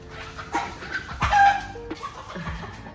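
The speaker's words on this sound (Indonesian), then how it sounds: "Ada ayam yang lagi kelahi." Chickens fighting nearby, with sharp squawks and clucks and a few sudden loud bursts of scuffling over steady background noise, all in a short burst.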